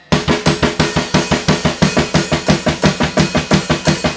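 Slow blast beat on a drum kit, snare locked with double bass drum hits in an even, driving pulse under steady cymbals, loud and close, about two strikes per half second throughout.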